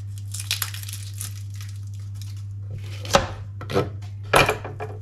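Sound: chopping onion with knife

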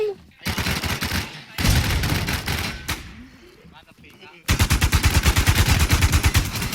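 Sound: gunfire in a video game

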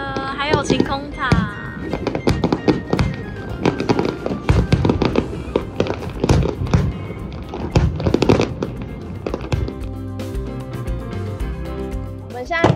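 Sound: fireworks over the Sumida River, Asakusa, Tokyo

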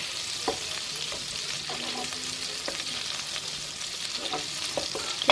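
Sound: eggs cooking in a pan

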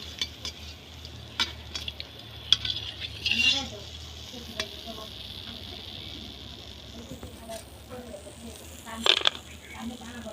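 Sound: jackfruit jalebis frying in oil and being lifted out

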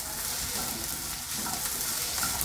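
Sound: long-cut capsicum added to a pan, stirred and sizzling

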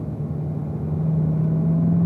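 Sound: race car tires rumbling over track curbing at turn 3

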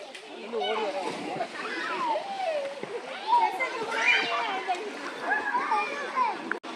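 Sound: water flowing and splashing at a stream

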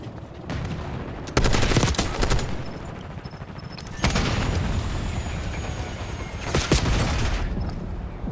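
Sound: sentry gun firing in Call of Duty video game

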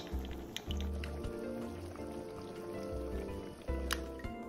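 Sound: cornstarch slurry added to braised shiitake mushrooms

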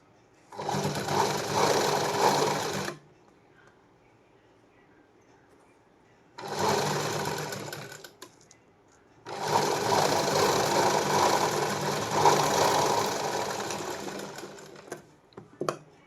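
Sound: sewing machine stitching a blouse sleeve seam

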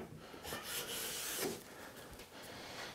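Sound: smoothing passes on a wood panel to fit a dado

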